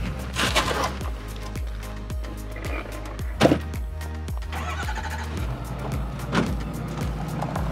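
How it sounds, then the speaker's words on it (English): A car rolls down a mountain hill, a continuous engine rumble with repeated low thumps and creaks from the rough road, plus occasional louder knocks and rattles, steady throughout and without talk. "We drove back down the hill towards home after a long, hot day up on the mountain."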